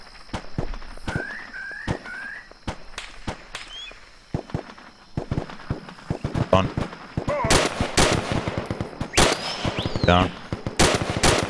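Video-game gunfire in a military operation, with rapid bursts and single shots crackling near and far in uneven volleys while players talk over the radio.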